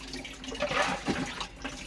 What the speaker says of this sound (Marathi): मी ना झाडाला पाणी पण घालावं म्हणलं